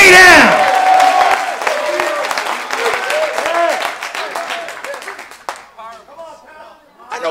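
A church congregation claps and cheers in praise during a sermon, loud dense applause with whoops that thins and fades toward the end as scattered claps and voices remain.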